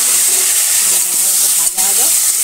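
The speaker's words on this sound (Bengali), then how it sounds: "দেখো এখন এটা ভেজে নিচ্ছি।" Potato and pumpkin frying in a pan with mustard seeds, cumin and chili, a steady loud hiss and sizzle throughout, with a voice speaking over it.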